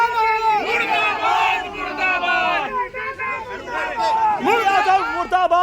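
RJD party workers chant slogans outside Lalu Yadav's house: a loud crowd of voices shouting together in rhythmic bursts. The chanting runs steadily and picks up again near the end.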